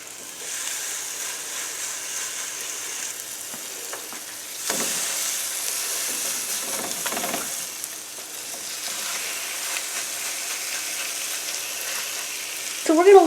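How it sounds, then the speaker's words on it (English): Hamburger patties sizzle steadily in butter in a hot skillet, a constant fizzing hiss with a few soft scraping clicks, close by. "I want that butter to be sizzling"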